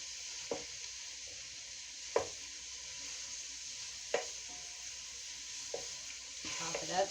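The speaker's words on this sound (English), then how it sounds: "With a spatula, start cutting that meat away." Meat sizzles steadily in a pan for chili while a spatula scrapes and chops through it in a few sharp, separate strikes, with busier scraping near the end; the frying is close and fairly quiet, and no one speaks.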